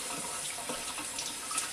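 Steady running water rinses a freshly cleaned spanner crab, a brief continuous splashing stream close by with no voices.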